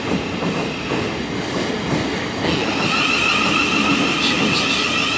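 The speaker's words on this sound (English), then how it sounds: "Hurry up, stupid train." Train rolling through Gillingham railway station in Kent with a loud, continuous rumble of wheels on track, a faint clickety-clack rhythm and a high squeal building over it, heard up close with no voices.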